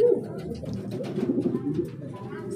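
Breeder racing pigeons coo in a loft, their soft, low rolling calls overlapping continuously and close by.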